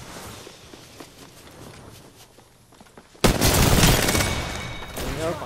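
A sudden loud burst of rapid gunfire in the battle royale game Apex Legends, erupting after quieter footsteps and ambient noise and continuing densely to the end.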